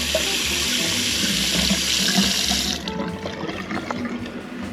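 A hot water tap runs steadily with a full rushing stream, then cuts off abruptly, leaving a few drips and faint clinks.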